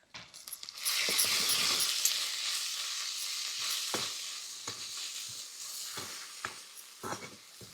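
Ground peanut powder with salt and turmeric sautéed in a pan, a soft sizzle rising after a moment, broken by repeated scraping and tapping strokes of a spatula against the pan.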